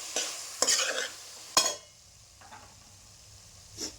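A spoon stirs curd into a cooking pulao mixture in a pot, giving a few separate scraping strokes with gentle sizzling between them. The strokes come in short bursts, fairly close and moderately loud, then fade to a quiet simmer.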